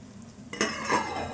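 Spoon stirring an onion egg fry seasoned with coriander powder in a pan, a short scraping burst with faint sizzling that starts after a quiet half second and stays close and steady.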